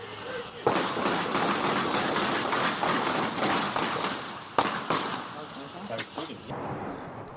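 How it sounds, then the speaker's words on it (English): Bursts of gunfire exchanged between two Bakersfield police officers and a suspect, rapid sharp cracks layered over a noisy background, with a few louder isolated shots standing out near the end. "This was the moment 2 Bakersfield police officers and a suspect exchanged gunfire"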